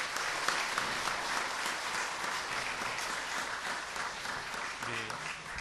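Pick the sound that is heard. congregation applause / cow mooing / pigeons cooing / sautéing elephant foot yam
congregation applause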